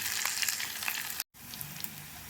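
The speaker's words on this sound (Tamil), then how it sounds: "வெங்காயம் போட்டுடுவோம் பச்சை மிளகாய் போட்டுருவோம் ரெண்டும் நல்லா வதங்கிட்டோம்" Onion and green chilies sautéing in oil with mustard seeds for a vegetable vermicelli dish, a steady close sizzle with light crackles, interrupted by one short cut.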